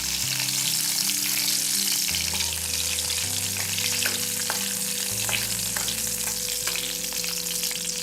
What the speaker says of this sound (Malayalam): അതിനകത്തോട്ട് നമ്മുടെ കശുവണ്ടി ഇട്ട് കൊടുക്കാം.